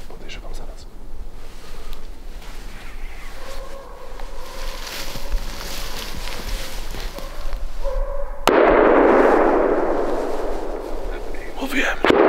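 A hunting rifle shot during a moose hunt in a Scandinavian forest. A long quiet wait with faint whispering ends in a single distant boom, which rolls away in a lingering rumble.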